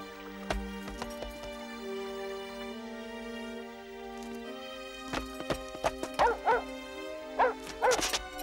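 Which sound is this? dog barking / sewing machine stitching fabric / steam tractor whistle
dog barking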